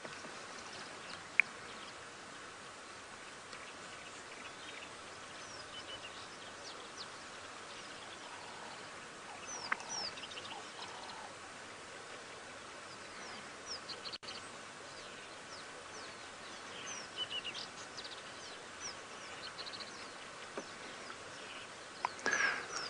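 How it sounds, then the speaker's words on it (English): Gentle gurgling of the Mara River on a serene safari morning, a steady faint wash of flowing water with scattered bird calls and insect buzz over it, no one talking. "We can hear the Mara River gurgling in the background."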